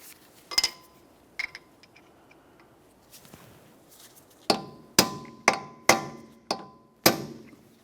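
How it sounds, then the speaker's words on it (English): Hammer blows on a punch stake the axle nut of a 2003–2007 Honda Accord: a couple of light taps, then a run of five or six sharp, ringing metallic strikes in steady rhythm, close and loud with brief decays. "You have to use a hammer and punch and drive the axle nut down into this area."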